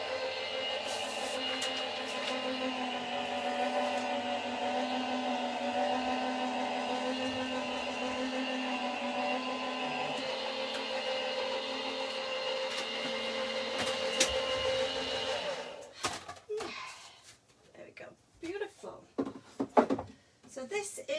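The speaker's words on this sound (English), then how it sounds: "So I'm just going to again pop that through the machine on a bit of an angle to help it go through." A die-cutting machine rolls a detailed cover plate die through with a steady, even mechanical hum for about fifteen seconds, then stops, followed by scattered handling clatter and rustling.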